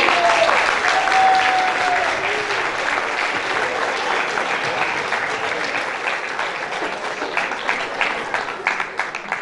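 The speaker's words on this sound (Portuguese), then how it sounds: "Aplausos!" A church congregation applauds at a celebration, steady sustained clapping filling the hall for several seconds, a little sparser toward the end, with faint voices mixed in.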